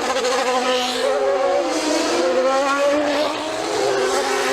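Formula One cars at the 1992 Belgian Grand Prix at Spa scream past with high, rising and falling engine whines, several cars overlapping in a loud continuous roar with no talk.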